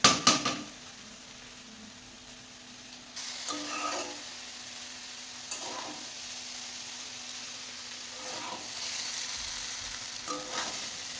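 Chicken chowmein noodles with egg fry in a pan with a steady, loud sizzle, broken by a few clattering knocks of the utensil early on and brief stirring bursts throughout. No talking.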